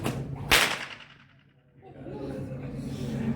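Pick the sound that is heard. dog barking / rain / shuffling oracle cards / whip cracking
whip cracking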